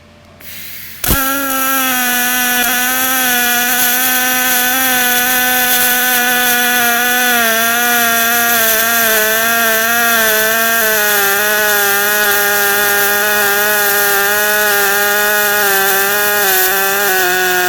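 An HTP Pro Pulse 300 welder running a pulse weld on 1/4 inch steel plate: after a short quiet start it settles into a loud, continuous, close buzzing hum with a steady tonal whine that holds for over fifteen seconds, and no speech.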